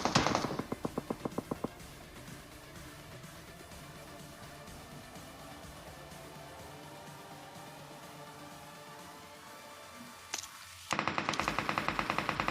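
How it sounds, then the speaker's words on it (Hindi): Machine-gun fire from a nearby compound in a video game, heard as rapid bursts of shots at the start and again at the end. A quieter stretch of ambient game noise lies between the bursts. "अब मुझे इस तरफ के कंपाउंड से कुछ गन साउंड्स आते हैं"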